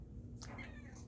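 A cat gives a single short, faint meow in the middle of a quiet indoor moment, with a low background hum around it.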